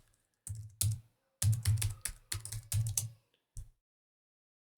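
Someone types on a computer keyboard in close, quick bursts of key clatter separated by short pauses, ending with a single press after a gap. No one talks.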